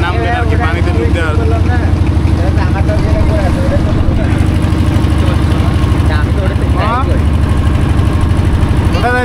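A motorboat engine chugs steadily on the open water of Patul wetland, Natore, a continuous close low drone running the whole ride, with voices talking over it.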